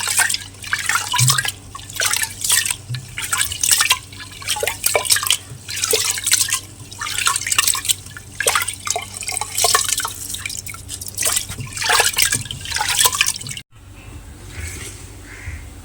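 Rice for Kerala-style ghee rice is washed by hand in a vessel of water, close, repeated sloshing, splashing and dripping in uneven bursts, ending abruptly with quieter trickles and a crow calling in the background.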